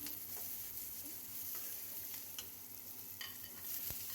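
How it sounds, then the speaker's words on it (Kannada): Dried red chillies frying in a pan for tomato chutney, a soft even sizzle close by with a few sharp taps and scrapes from stirring. "ಒಣಮೆಣಸಿನ್ಕಾಯಿ ಹಾಕ್ಕೊಂಡು ಚೆನ್ನಾಗಿ ಫ್ರೈ ಆಗಬೇಕು"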